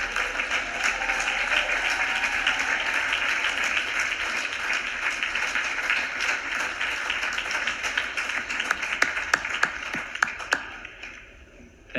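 A graduation audience claps steadily for parents, friends, family and siblings, broadband applause sustained for about ten seconds before thinning to a few scattered claps at the end.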